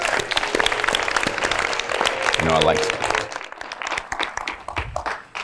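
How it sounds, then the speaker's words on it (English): A town hall audience applauds with steady clapping that fades out after a few seconds, while someone speaks briefly over it. "Let's give them a great round of applause."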